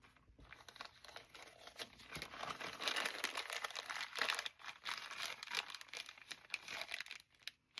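Paper flower embellishments from an assortment pack of paper crafting supplies crinkle and rustle in their plastic packaging, a steady close-up crackling that swells in the middle and fades near the end, with no talking.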